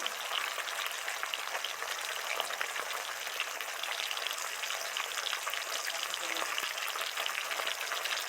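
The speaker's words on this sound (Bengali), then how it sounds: "আলুগুলোকে একটু লাল করে ভাজবো" Potatoes frying in hot oil in a kadai until browned, giving a steady, close hiss and crackle that continues evenly throughout with no talking.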